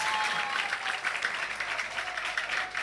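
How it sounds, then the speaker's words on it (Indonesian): Audience applause for the jury at the final of an Islamic competition, a steady wash of clapping that holds at an even level for a few seconds with no voices over it. "Jadi tepuk tangan yang meriah untuk kepada Dewan Juri."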